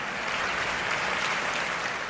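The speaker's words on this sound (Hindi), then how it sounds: "जब तक ताली नहीं बजाओगे मैं यही गाऊंगा" Steady, dense applause from an audience at a Hindi comic poetry recital (hasya kavi sammelan), continuous and fairly loud throughout with no talking.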